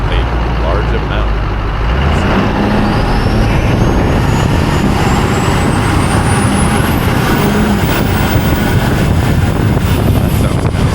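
Big blue GMC truck driving, a constant loud engine and road roar heavily buffeted by wind on the camera microphone, continuous and unbroken.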